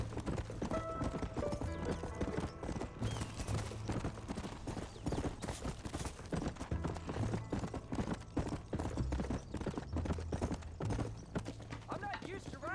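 Horse hooves gallop hard in Red Dead Redemption, a fast, steady clip-clop of hoofbeats throughout, with people talking over the riding.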